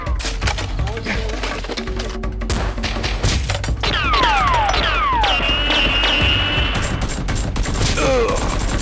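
Nerf guns fire during a staged play battle, a dense run of sharp pops and clacks crowding together. Whistly, sliding sounds and shouting voices break in over the volley.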